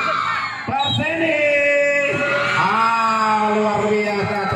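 Football supporters at a final match of a local cup tournament shout, whoop and cheer loudly, with rising yells and sustained crowd roar throughout, while a commentator talks excitedly over the noise.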